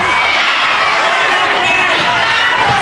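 Wrestling arena crowd in a bout between Tony St Clair and Johnny Kincaid, giving a loud, dense wash of jeers and shouting that carries on without a break, with a commentator's voice mixed in.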